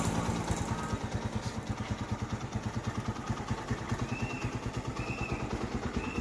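A motorcycle engine with a Primus motor idles steadily close by, its fast, even putter continuing for the whole stretch with no talking over it.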